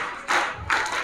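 Two quick bursts of hand clapping at a high school National Science Day celebration, sharp and evenly spaced, from a group nearby.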